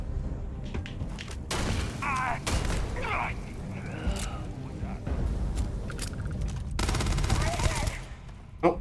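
Rapid bursts of gunfire and thumping booms from the video game Starfield, loud and up close in clustered volleys, with players talking between shots.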